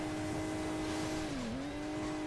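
A tractor engine in the Hill Climb Racing 2 mobile game hums in a steady, loud drone. Its pitch dips briefly in the middle and then recovers, with game noise around it.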